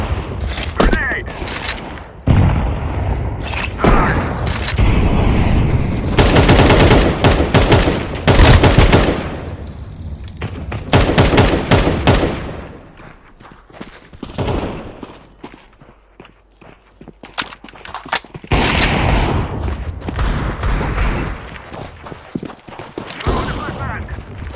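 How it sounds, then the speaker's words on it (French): Gunfire and grenade blasts in the video game CS:GO, dense rapid volleys and bangs mixed with running footsteps, loud and busy, with game voice lines over the action. "Grenade!"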